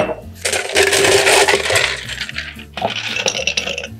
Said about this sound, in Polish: Uzupełniamy kostkami lodu.